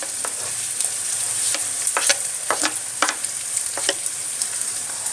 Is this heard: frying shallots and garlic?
yes